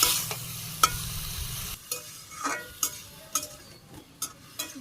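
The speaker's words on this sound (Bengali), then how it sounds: "নাড়াচাড়া করে আমি ভালো করে একটু কষিয়ে নিই।" Spices with salt, turmeric and chili powder are stir-fried in a pan for an egg and potato curry, a low sizzle broken by repeated sharp scrapes and taps of the spoon at an uneven rhythm, close by.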